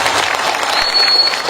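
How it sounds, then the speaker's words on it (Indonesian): Brief burst of applause from listeners at a humorous Sundanese-language religious sermon, loud and close, a dense clatter of clapping with no speech on top. "Tepuk tangan."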